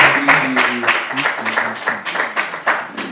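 Audience applause at a provincial youth quiz semifinal between the Gazelles and St Augustin teams: brisk, dense clapping throughout, with a voice speaking over it.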